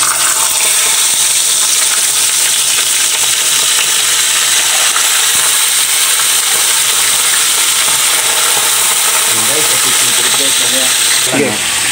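Tulingan fish sizzling as it goes into hot cooking oil, a loud, steady, close hiss of frying that fills the whole stretch, with faint clinks and bubbling near the end.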